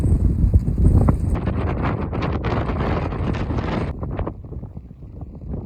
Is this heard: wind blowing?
yes